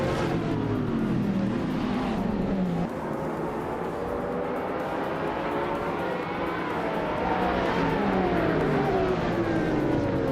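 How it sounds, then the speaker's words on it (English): Race cars roar off the start of a hypercar-class race at Snetterton 200 in a racing video game, a classic 2009 Pagani Zonda among them, engines revving loud and continuous with rising and falling pitch sweeps as cars accelerate. "the race kicks off at Snetterton 200 with the hypercar class"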